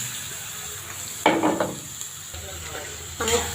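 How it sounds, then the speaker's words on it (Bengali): Sliced onion hitting hot oil in a pan for a beef kala bhuna, a sudden burst of crackling sizzle that settles, then a second burst with a utensil clink, no talking. "এখন আমি তেলটা গরম হইতে হইলে আমি পেঁয়াজটা দিয়ে দিছি"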